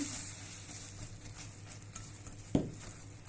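Oat pieces being stirred into a zucchini mixture in a pan, with soft scraping and faint sizzling throughout and a single louder knock of the utensil against the pan partway through, all fairly quiet and without talk.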